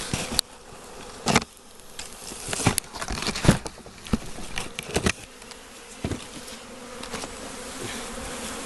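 Dense buzzing of a honey bee swarm close by, with scattered crackling and rustling bursts over the steady hum.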